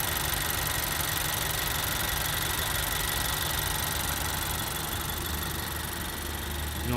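A 2017 Honda CR-V Touring's 1.5-litre turbo engine idling with the hood open, a steady, even mechanical hum and whir heard up close with no talking.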